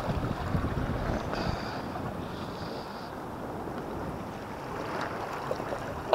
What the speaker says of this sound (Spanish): Hace mucho oleaje.